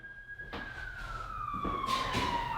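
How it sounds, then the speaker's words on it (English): Ambulance siren passing through a city street, a steady wailing tone gliding slowly downward as it goes by, growing louder toward the end with faint traffic rumble beneath. "Straight up ambulance."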